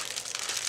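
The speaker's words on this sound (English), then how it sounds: "I'm gonna have to rip the sticker." A paper sticker is torn off a gift box, a brief, close, crinkly ripping sound with no voices.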